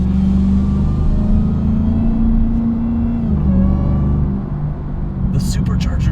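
A supercharged Demon Hemi V8 in a Jeep Gladiator drives on with a steady, loud low rumble and supercharger whine, shifting pitch partway through, while people talk over it.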